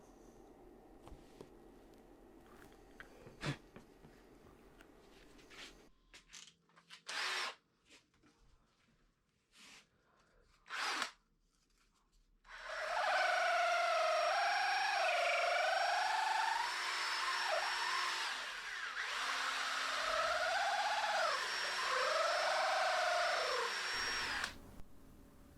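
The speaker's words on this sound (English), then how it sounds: "We're just using a special rod building reamer here." Rod building reamer whirring steadily as it shapes a pike fly rod, a sustained high mechanical drone with slight pitch wavers, preceded by scattered knocks and handling bumps.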